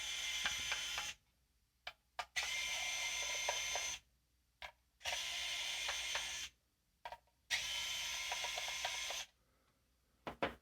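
A small electric screwdriver whirs in repeated bursts, interrupted by brief clicks and silences, while removing the four screws from the back of a guitar pedal. Close, steady motor whine with no talking.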